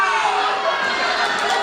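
An audience at an anniversary public speaking event applauding, with a dense, even wash of clapping that holds steady throughout.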